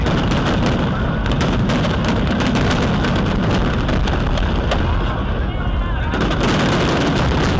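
Dense, continuous booming and crackling of a large New Year countdown fireworks show at Icon Siam, Bangkok, with drones overhead, loud and sustained as layered bursts merge into a constant roar while crowd voices chatter underneath.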